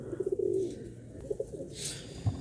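A pigeon held in the hand gives a few soft coos in short bursts, close and fairly quiet, with brief chirpy notes and handling noise between them.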